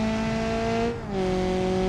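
Turbocharged car in the video game BeamNG.Drive accelerating hard, a loud steady engine tone that drops briefly at a gear change and then climbs again, with no speech.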